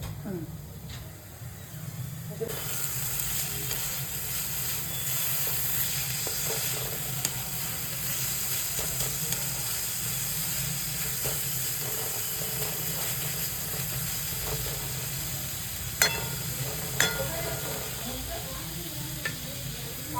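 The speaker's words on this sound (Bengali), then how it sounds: "পেঁয়াজটা খুব কম তেলে ভাজা হচ্ছে সেটা দেখে বোঝাই যাচ্ছে" Onion frying in very little oil on a low flame while browning, giving a steady, close sizzle with occasional stirring scrapes and clicks, continuous under a low background hum.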